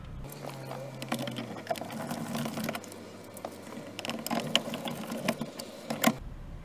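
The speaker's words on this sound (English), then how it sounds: "go ahead and open up your sunglass compartment and then put in the two screws" Screws being driven into the sunglass compartment of a Honda Accord overhead console, heard as a close, steady run of small mechanical clicks and ratcheting ticks over about six seconds.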